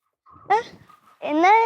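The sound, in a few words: puppy whimpering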